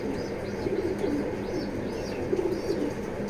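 Racing pigeons coo softly in a low, rolling murmur, with a few faint chirps over steady background noise.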